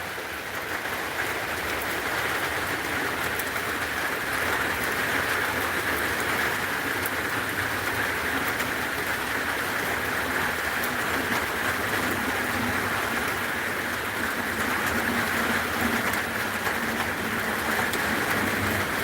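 Steady rain falling in North Georgia, a dense, even hiss of drops hitting surfaces that continues without pause, moderately loud and close throughout.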